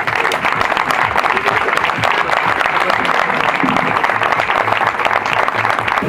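A crowd gathered for the inauguration of a sports complex applauds loudly and continuously, with dense, close clapping sustained at an even level throughout.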